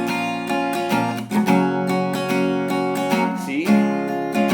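Acoustic guitar strummed in a steady chorus pattern, bright ringing chords with quick rhythmic strokes and a chord change near the end, close and clear with no talking.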